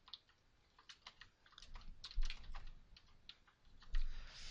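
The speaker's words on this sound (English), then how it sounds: "they want us to type in the words "admire the beauty."" Soft, quick clicking of keys as text is typed on a computer keyboard, an uneven patter of close, quiet keystrokes with short pauses.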